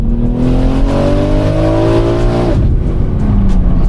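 A 1400 hp BMW M3 engine winds up hard through the revs in first gear, a quick gear change to second, then pulls again; loud and close, from inside the car.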